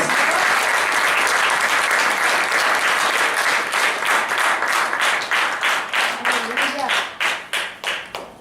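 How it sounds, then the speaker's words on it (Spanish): A church congregation claps loudly during a Sunday sermon, a dense, sustained wash of applause that thins into slower, distinct rhythmic claps near the end. "Denle fuerte palmas a Dios"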